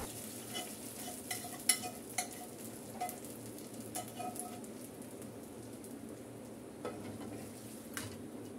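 Fried onion tempering in one spoon of oil poured into a pot of khichuri, giving a steady, moderately close sizzle with occasional sharper pops and stirring clinks, no voices.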